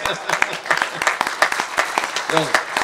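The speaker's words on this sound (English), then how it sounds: "Applause, guys." Audience applause at a storytelling session during a rendezvous gathering, a short round of clapping mixed with voices and cheering throughout.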